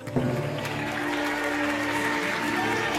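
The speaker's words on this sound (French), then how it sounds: "On applaudit bien sûr Delphine qui aujourd'hui a mis un terme à cette superbe aventure." A television game show studio audience applauding in a full, continuous roar of clapping with some cheering, as a steady musical tone plays underneath.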